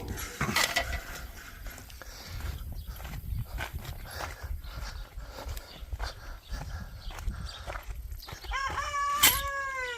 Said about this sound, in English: Yeah, that's the roosters.